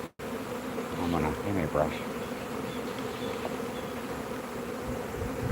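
Honeybees from a newly delivered package hum in a dense, continuous buzz close by, with a brief voice speaking over it.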